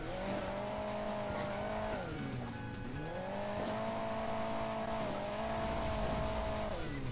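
A car's engine in the mobile racing game Hill Climb Racing 2 drones steadily, its pitch rising, dipping briefly and climbing again, with tire noise underneath and no talk.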